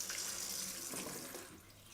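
Coolant draining out of a Kawasaki ZRX 1100 cooling system once the top filler is opened, a steady close trickle and splash of liquid pouring continuously, with no talk.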